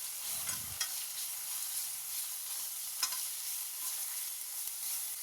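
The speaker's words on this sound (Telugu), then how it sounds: "ఇవన్నీ ఒకసారి బాగా ఫ్రై చేసుకుందాం." Peanuts, sesame seeds, dry coconut, garlic and coriander dry-roasting in a pan, heard as a faint continuous sizzle and crackle with occasional stirring scrapes, alone without talk.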